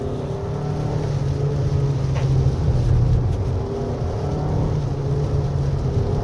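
2023 Toyota RAV4 Hybrid AWD driving a wet winding mountain road in rain, a steady loud drone of engine, tire hiss and road spray with low harmonic hum, continuous throughout.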